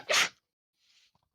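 One sharp, loud sneeze from a single person, followed by a soft breathy exhale and a couple of faint small clicks in near silence.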